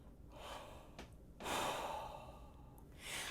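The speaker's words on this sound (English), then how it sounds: "You're going to do our tall, low-pitched inhale, then exhale" Breathing exercise for horn playing: a slow, low-pitched inhale followed by a relaxed, airy exhale around a horn mouthpiece, close and soft, with a second breath starting at the end.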